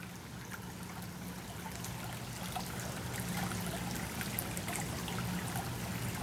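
Water trickles steadily along Frog Creek at night, a continuous soft babbling wash that stays even and unbroken throughout, with no voices.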